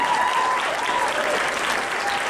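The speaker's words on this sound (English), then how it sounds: "Big round of applause for Macy." A talent show audience applauds, with loud, dense clapping that stays steady and close for the whole couple of seconds.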